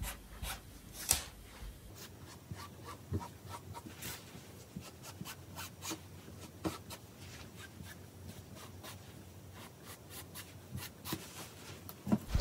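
A pen or marker scratches fabric in small strokes while marking half-inch intervals for a rose ruffle top, soft and close, with faint rubbing between the light ticks.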